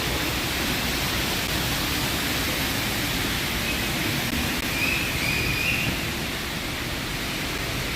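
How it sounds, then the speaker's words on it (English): A very loud waterfall in Japan roars as steady, dense broadband rushing water, close by and unbroken for the whole stretch, with no voices over it. "Oh, this waterfall is very, very loud."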